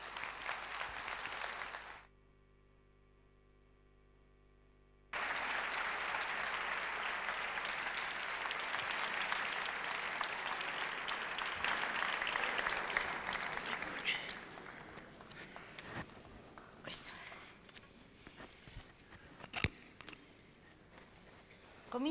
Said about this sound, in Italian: Accogliamo con un grande applauso Enzo Bianchi e Michelina Borsari.